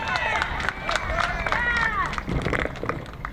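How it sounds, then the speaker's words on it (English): A crowd claps and cheers at a 12U all-star youth football game in Cleveland, honoring a young player; scattered applause mixes with crowd chatter, whistles and outdoor bustle throughout. "Clap it up for him."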